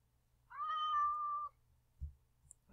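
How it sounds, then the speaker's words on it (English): A cat meows once in the Minecraft video game, a clear, drawn-out tonal call of about a second, heard alone, followed by faint soft game sounds. "It is a cat!"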